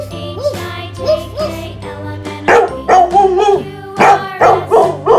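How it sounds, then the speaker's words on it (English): A dog barks in a loud, close series of sharp yaps and bow-wows, with a faint jingling and a few pauses between bursts. "And what is the sound of dog? Woof, woof, woof, woof, woof,"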